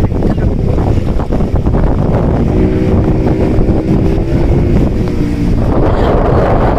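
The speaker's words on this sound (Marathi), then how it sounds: "वाराने बोट एकदम अल्टीपल्टी व्हायले" Strong sea wind buffets a boat off Devbag-Tarkarli near Malvan. Loud, steady wind roar and microphone rumble continue for the whole stretch with rough water underneath, and a faint tonal hum rises midway.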